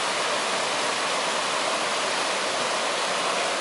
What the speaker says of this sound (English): But I love these flowing rivers that you can find pretty much all over the park.